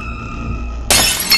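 Mirror glass shatters in a horror video game: a sudden loud crash of breaking glass cuts in over a low droning background hum, with a second splintering burst following shortly after.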